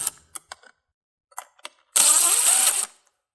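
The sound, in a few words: removing screws with a 1/4-inch screwdriver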